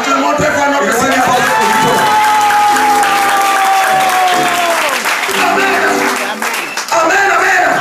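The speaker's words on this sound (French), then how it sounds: "Acclamons très fort notre Seigneur." A church congregation applauds and cheers loudly, with dense clapping and crowd voices, while a sustained tone gradually falls in pitch beneath the noise.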